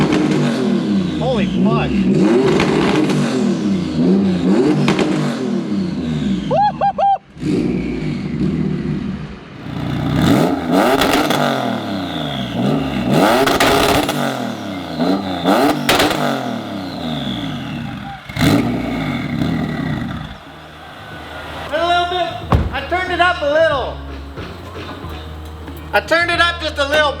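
A Subaru WRX STI with a swapped EG33 flat-six, held on launch control at around 5,500 RPM, revs loudly and repeatedly, the pitch surging and dropping in bursts close by, with a brief shouted exclamation.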